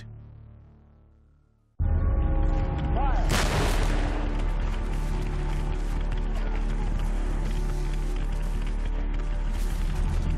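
Booming cannon fire from the Union timberclad gunboats Tyler and Lexington at the Battle of Shiloh: a quiet lead-in, then a sudden loud blast and sustained heavy, rumbling bombardment with dense crackling, as in a dramatized battle sequence.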